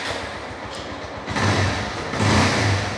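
An 11-year-old motorcycle engine cranks and catches, rising into a loud idle with two swells of revving, heard up close.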